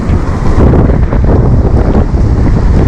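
Strong, gusting wind buffets the microphone on a sea coast at the mouth of the Psezuapse river, a loud continuous roar with surf blended in and no voices.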